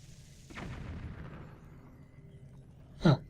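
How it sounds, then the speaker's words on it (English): A bomb explodes in Zelda: Twilight Princess HD, one muffled boom with a rumbling tail that fades slowly, then a short sharper burst near the end. "Let's just drop a bomb down there and see what happens."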